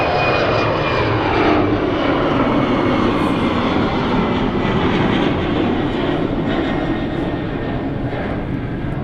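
An airplane taxis at Manchester Airport, its jet engines giving a steady, loud whooshing roar that holds level throughout, heard from nearby with no talking.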